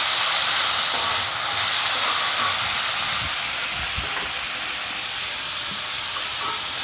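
Carrots and beans frying in a pan for vegetable upma, giving a steady, fairly loud hiss and sizzle throughout with faint clinks, no talking.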